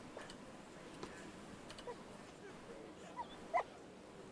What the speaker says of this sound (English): there is a dog